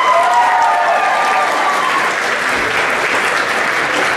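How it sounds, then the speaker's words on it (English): Sustained applause from a convention panel audience fills the room, loud, dense and steady, with a few voices mixed into the clapping. "Round of applause for them, guys."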